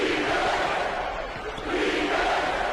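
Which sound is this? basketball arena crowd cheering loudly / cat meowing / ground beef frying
basketball arena crowd cheering loudly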